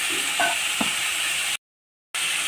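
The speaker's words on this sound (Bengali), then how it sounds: "এবার কড়াইতে জিরে ফোড়ন, তেজপাতা, কাঁচা লঙ্কা দিয়ে দিলাম।" Cumin seeds, bay leaf and green chilli sizzle in hot oil in a kadai, a steady close frying hiss with a few soft stirring knocks, ending in a short gap of silence before the sizzle resumes.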